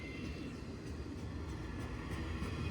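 A CSX freight train from Georgia rolling past, heard as a continuous dense low rumble of railcars with steady, unbroken loudness throughout and no talk over it.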